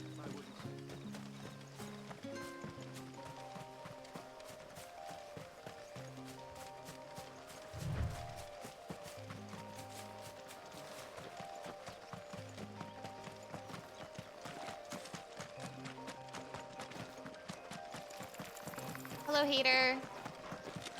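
Hooves of a ridden mount clip-clop steadily through Final Fantasy XVI gameplay, a continuous rhythmic trot beneath game music, with a brief whinny near the end and a person talking over it.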